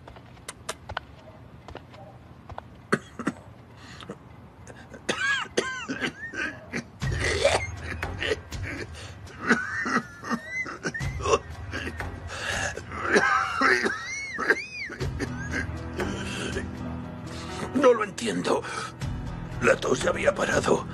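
In a Spanish-dubbed family drama scene, someone coughs and wheezes with raspy, breathy sounds scattered among ongoing talking and background noise.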